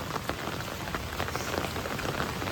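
Steady monsoon rain in Sindhudurg, Konkan, patters densely on a surface, a constant close hiss of drops with no other sounds.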